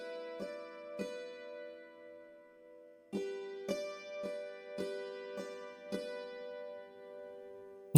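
Dulcimer picking a slow, simple melodic theme with compression and reverb, about ten clear plucked notes with lingering decays and pauses between phrases, played solo and close.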